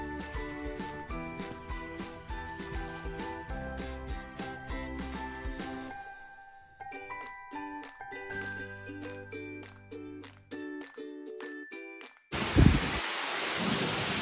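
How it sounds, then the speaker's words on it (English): Heavy pouring rain breaks out with a deep thunder rumble over a deck being renovated, arriving as a loud broadband roar near the end after a long stretch of tonal music. "Now it's pouring down rain."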